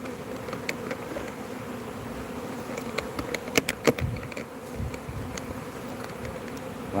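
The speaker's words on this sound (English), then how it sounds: "Lots of bees." Dense, steady buzzing of many bees milling around twelve newly installed hive colonies, close and continuous with a few louder passes near the microphone.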